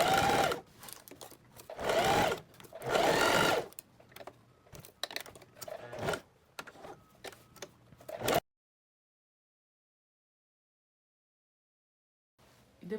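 A sewing machine stitches a blouse in three loud, short whirring bursts, then lighter ticking and tapping, before falling silent.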